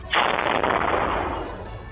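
A hand grenade explosion in Sector 10, Chandigarh, captured by a CCTV camera: one sudden loud blast with a sharp onset that decays into a long rumbling tail, no voices.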